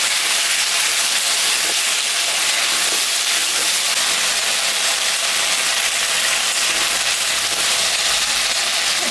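Onions and two dried red chillies sizzling in hot oil in a home kitchen, an early step of a Bengali rohu fish curry; a steady, broad hiss of frying runs unbroken throughout with no talk.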